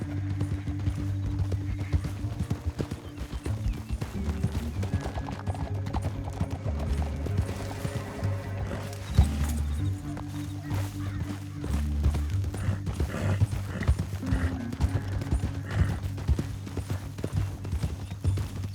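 Steady clip-clopping hooves trot along with a low musical score underneath, and a horse whinnies partway through, in the video game Red Dead Redemption 2.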